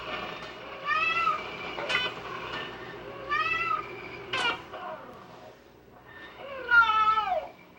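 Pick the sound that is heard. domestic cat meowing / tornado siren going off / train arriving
domestic cat meowing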